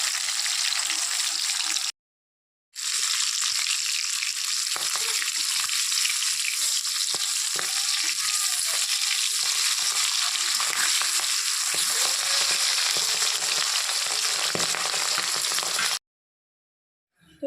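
Fish pieces frying lightly in hot oil for a Bengali fish curry, giving a steady, dense sizzle with crackling and occasional utensil stirring, nearly continuous with two short silent gaps.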